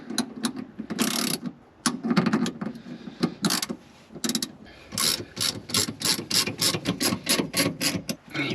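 A ratchet clicks in repeated bursts while tightening the shorter replacement top nut on a rear shock of a 2005-2012 Honda Civic, close up, with brief pauses between strokes and a quick run of even clicks near the end.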